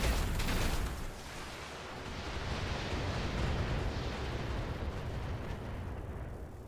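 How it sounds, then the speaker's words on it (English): Mech weapons from the BattleTech video game fire at a target, with a heavy booming blast at the start that settles into a rumbling, crackling barrage fading over several seconds. "Firing on target."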